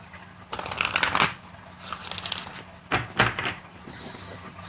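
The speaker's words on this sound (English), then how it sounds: "pulling a few cards, however many wants to come out, a few, from each of my decks" Oracle cards from a Romance Angels deck are shuffled and pulled by hand, giving several loud, crisp riffling bursts broken by brief quiet gaps and soft thumps.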